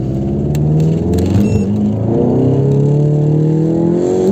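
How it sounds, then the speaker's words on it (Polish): A tuned turbocharged 2.0 TSI engine in a VW Golf GTI Mk7 revs steadily, its pitch climbing and sliding in long sweeps with a loud, continuous throaty drone close by. "dźwięk tego silnika jest no zajebisty, nie? Jak się wkręca na obroty jest mega"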